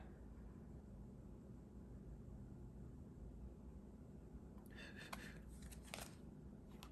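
Tarot cards being shuffled by hand during a reading, heard as a few soft, close riffling bursts near the end over a quiet hiss.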